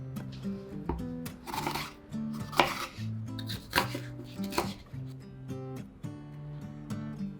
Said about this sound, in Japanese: アボカドとパプリカは1センチ角にカット。